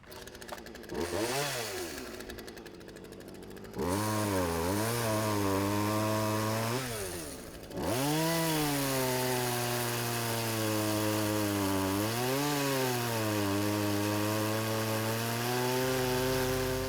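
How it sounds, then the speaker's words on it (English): A chainsaw engine drones steadily and revs up and down in several surges while cutting logs, loud and close, with no voices. "always relocate logs to an area where you can safely use your chainsaw"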